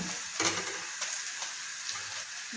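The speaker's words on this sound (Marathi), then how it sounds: "आता हे आपला कांदा तयार आहे भाजून." Chopped onion fries in a pan with steady soft sizzling, and a few light stirring scrapes rise above the hiss.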